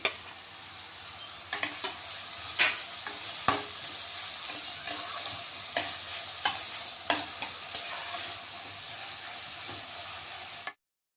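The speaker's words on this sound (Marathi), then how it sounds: "आता चांगले परतून घ्यायचे फोडणीत" Diced potato and tomato sautéing in hot tempering oil, a steady close sizzle broken by repeated scraping stirs of a spoon at a regular pace, with no voices.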